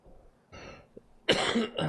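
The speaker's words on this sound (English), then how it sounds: "Sorry to cough into the mic there" Two coughs close to the microphone during a live on-course golf stream, a short muffled one followed by a louder, harsher burst.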